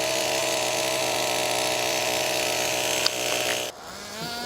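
A 21-year-old nitro RC car engine buzzes steadily at high revs with a raspy two-stroke drone, then cuts off abruptly near the end, leaving a lower idle.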